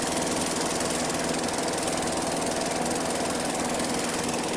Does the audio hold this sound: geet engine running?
yes